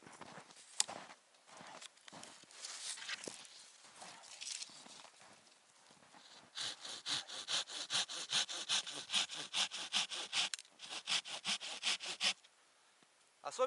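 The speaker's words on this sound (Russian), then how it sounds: "Пилю немного наискосок, чтобы рез был побольше." A Silky hand saw cuts through wood at a slight angle in a series of rhythmic rasping strokes, close and fairly clear, the pace quickening into steady regular pulls before stopping.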